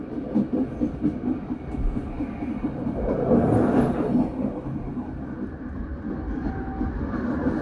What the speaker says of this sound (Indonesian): papasan kereta lokal Bandung Raya yang ada pada Larang